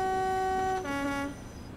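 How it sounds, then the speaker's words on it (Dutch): A video game train horn sounds a sustained two-tone blast, the pitch stepping down partway through before fading, loud and close with no talking. "Dat is een betere toeter."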